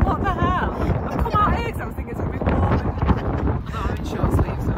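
Strong gusts of wind roar and buffet continuously, close and loud, with voices talking through the noise.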